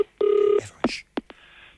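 A telephone handset on a comedy radio show gives a short steady dial tone, followed by a few sharp clicks and brief chirping tones as a call is placed, in a quiet studio.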